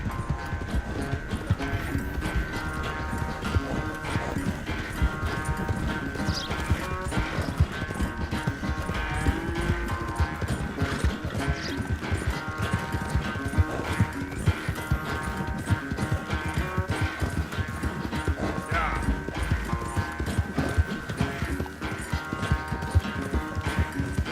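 Steady rhythmic hoofbeats of a galloping horse in Red Dead Redemption 2, continuous and close throughout with a faint musical tone underneath.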